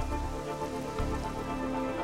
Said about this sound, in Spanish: A medida que la lluvia caía,